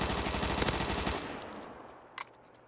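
RPK machine gun firing in a Black Ops 3 custom zombies game: a loud, rapid sustained burst lasting about a second, then fading, with one short sharp shot later.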